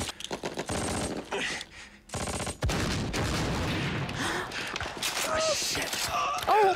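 Gunfire in a war TV series, with bursts of rapid shots and heavy impacts mixed with loud effects and brief shouts, fairly loud throughout and broken by short quiet gaps.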